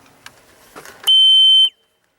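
A septic system alarm test sounds a single loud, high electronic tone lasting about half a second, after faint clicks and handling noises, then stops abruptly into silence.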